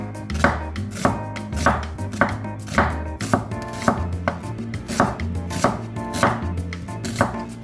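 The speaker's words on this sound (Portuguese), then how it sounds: "Então, eu vou começar cortando cebola." Knife chopping onion into half-moon slices on a board, a steady run of sharp close cuts at an even rhythm, heard alone without any talk.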